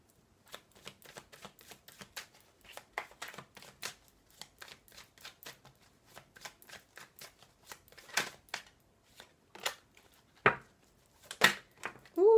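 Tarot cards being shuffled by hand before a draw, a long run of soft, close riffling and slapping bursts in uneven rhythm, with a few louder flicks near the end and no talk.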